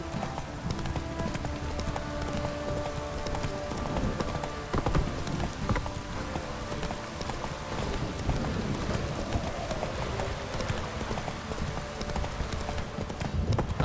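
Roach, a horse in The Witcher 3 video game, clip-clops at a steady trot for over ten seconds, hoofbeats close and continuous over faint music and ambience.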